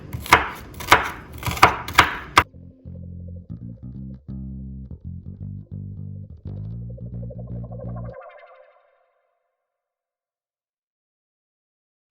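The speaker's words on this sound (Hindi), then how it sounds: "अब हम इन हरी मिर्चों को थोड़ा सा बारीक चॉप कर लेते हैं" Green chillies are chopped finely with a knife for a ghiya kaddu (bottle gourd) dish, a quick close run of sharp chops lasting about two seconds, followed by sustained tonal music-like sounds and then silence.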